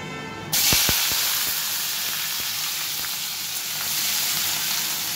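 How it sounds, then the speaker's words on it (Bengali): Potatoes frying in hot mustard oil tempered with black cumin, a steady broadband sizzle that jumps in suddenly and continues close and loud, with a few sharp pops and crackles early on and a kitchen hum beneath. "আলুটা একটু ভেজে নিই।"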